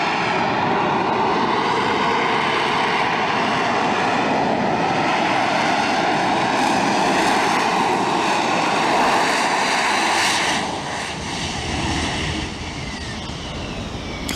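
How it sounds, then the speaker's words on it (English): A Harrier jump jet holds a vertical landing at an air display, its engine roaring with heavy, continuous broadband thrust that stays loud and steady before easing slightly near the end. "There's a lot of thrust out of this engine."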